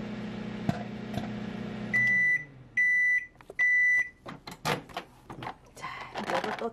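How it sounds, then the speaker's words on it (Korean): A microwave oven heats frozen ginkgo nuts with a low steady hum, then sounds three long, loud beeps when done, followed by clattering from handling the door and dish. "이거를 전자레인지에다가 딱 1분만 돌려오겠습니다"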